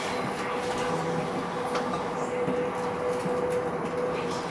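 A train passing on the far side of a river valley, heard as a steady rumbling wash that stays fairly loud throughout the whole stretch.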